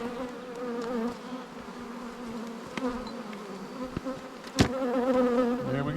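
A continuous drone of honey bees circles a farm hive at a winery, the buzzing close and even with a sharp knock partway through and wing tones rising and falling.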